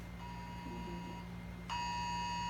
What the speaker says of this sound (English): the Emergency Alert System is the sound,